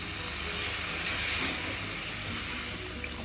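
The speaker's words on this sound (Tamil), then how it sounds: "ஒரு 1/2 டம்ளர் அளவுக்கு தண்ணி சேர்த்துக்கோங்க." Water poured into a frying pan of sautéed capsicum for a mushroom pepper fry, giving a soft, continuous hiss and sizzle that swells midway and then eases.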